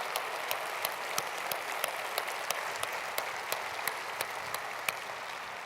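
Audience applause at a technology conference plenary honoring award-winning organizations, a steady crackling wash of many hands clapping with a few sharper individual claps standing out, continuous throughout.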